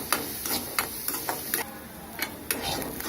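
Onions with curry leaves sauté in a pan, a soft sizzle running underneath as a spatula taps and scrapes the pan in irregular strokes, about a dozen distinct knocks, close and moderately quiet.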